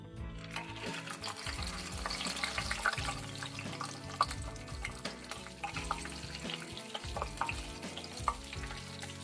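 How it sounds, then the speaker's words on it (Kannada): Cashews frying in ghee for vangi bath, a steady close sizzle with crackling pops and occasional stirring clinks, no talk. "ತುಪ್ಪ ಹಾಕಿದ್ಮೇಲೆ ಫಸ್ಟು ಗೋಡಂಬಿನ ಹುರಿದು ಎತ್ತಿಟ್ಕೊಬಿಡೋಣ."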